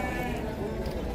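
Sheep bleat at a sheep fair in Cachoeirinha, Pernambuco, a loud, dense and continuous chorus of nearby animals with people talking underneath.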